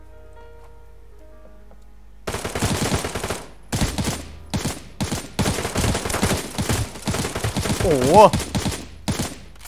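AK47 gunfire in the mobile shooter Knives Out, loud rapid bursts of automatic fire separated by short pauses over about seven seconds, with a brief exclamation from a voice near the end.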